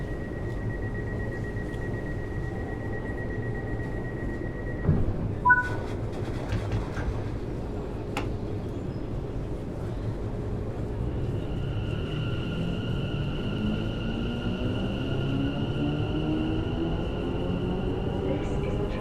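A London Overground train running in the video game Train Sim World 6, a steady low rumble of the moving train throughout, with sustained electric motor whine, a few clunks midway and automated announcements over it.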